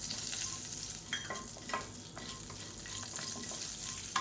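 Curry leaves sizzle and fry in hot oil alongside red chilli seeds, a steady close crackle and hiss with occasional stirring scrapes, no voices.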